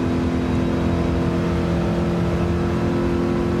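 Steady, loud Ford Mustang Mach 1 engine held at high revs in Gran Turismo, a continuous buzzing drone with no pauses or voices.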